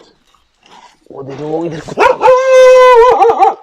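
A dog on a street in Makkah gives drawn-out whining barks and a howl-like yowl, loud and close, while someone talks over it.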